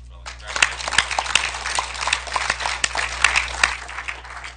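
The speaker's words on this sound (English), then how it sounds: "One more round of applause for Bella." An audience at a Chaska High School winter signing day applauds for a student, a close, steady round of dense clapping lasting several seconds in an indoor room.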